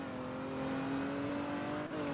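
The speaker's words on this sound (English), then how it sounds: "I do love to drive around in my Chrysler, because I just think it's such a nice car." A black Chrysler car with black wheels accelerates in the Roblox game Liberty County, its engine holding a steady rising drone throughout, loud and continuous with no talking.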